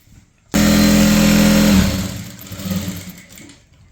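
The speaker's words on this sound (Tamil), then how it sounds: "அதை வந்து இப்படி மடித்து தைச்சிருங்க" A sewing machine stitches a folded sleeve hem on a cut kurti top, starting abruptly with a loud steady motor run for about a second, then easing into quieter, uneven stitching that fades out.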